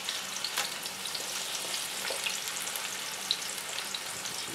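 Potatoes fry in a cast iron pan with a steady, close sizzle and crackle that runs unbroken, with small pops and spatters rising above the hiss.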